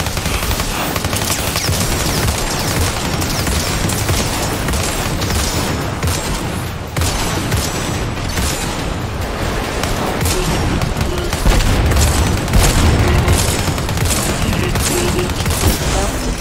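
Shotgun gunfire in the VR game Stormland, a dense, loud, continuous barrage of shots and impacts with booming blasts throughout, no clear talk over it.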